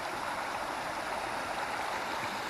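A small forest stream with a mini waterfall along a hiking trail near a reservoir lake gives off a steady, close rush of flowing water. The babbling runs unbroken and even, with no voices.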